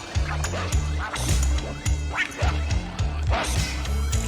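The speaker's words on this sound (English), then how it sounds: "He was a little dog named Snuggles." A small dog barks in a recording, a run of short, rapid yips and woofs in a steady rhythm over a droning music bed, loud and close, with a voice mixed in.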